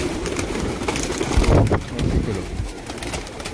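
A pigeon caught in thread coos in soft, low murmurs, close by and under a steady background noise, with people talking nearby.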